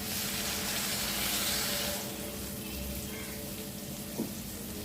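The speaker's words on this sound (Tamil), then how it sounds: "இந்த ஸ்டேஜில் கொஞ்சம் தண்ணி சேர்த்துக்கிறோம்" Water is added to sautéed turkey berries in a hot pan, bringing a loud hiss and sizzle at first that settles into a softer steady bubbling, with a faint clink near the end.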